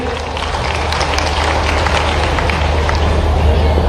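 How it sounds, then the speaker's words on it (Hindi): Large outdoor crowd at a tribal student encouragement ceremony in Khandwa claps for Mohan ji, a steady dense wash of applause and crowd noise throughout. "एक बार जोरदार मोहन जी की ताली बजाइए।"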